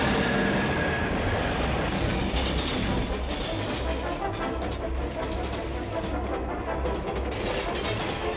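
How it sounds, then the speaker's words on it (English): A passenger train rumbles past in rural Smallville, Kansas, a dense, continuous roar with rhythmic clatter that stays steady and close throughout. "when Clark outruns the train."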